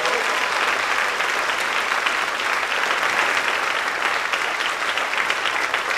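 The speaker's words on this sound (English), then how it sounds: "Let's give them another round of applause." Audience at a high school spring band concert applauding a pipes and drums band, dense steady clapping from a large crowd filling the whole stretch.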